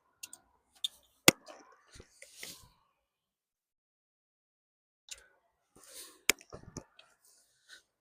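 Buckles on Halfords car cover straps click open in a few sharp, isolated snaps, with a pause between two bursts of handling.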